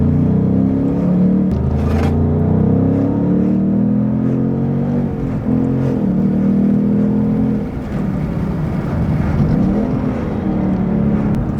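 A 2022 Ford Mustang Mach 1 V8 rumbles and revs loudly up close, its deep engine note rising and falling through several throttle blips over a continuous idle.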